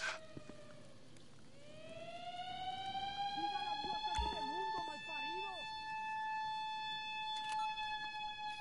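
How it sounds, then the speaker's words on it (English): During a GTA Online Cayo Perico Heist, an alarm siren swells up and holds a steady wailing tone, quiet and continuous, beneath someone talking and scattered game sounds. "I could do it with the alarm going off anyway."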